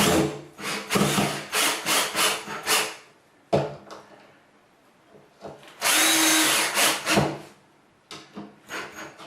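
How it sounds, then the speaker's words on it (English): A cordless drill driving screws whirs in several short bursts, separated by quiet gaps, with a longer sustained run near the middle, close by and fairly loud. "I want to use my cordless drill."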